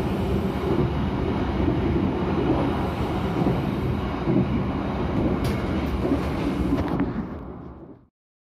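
Argo Bromo Anggrek passenger train in Indonesia riding on rails at speed: a loud, steady, dense rolling rumble with rattling that holds for about eight seconds before cutting off abruptly.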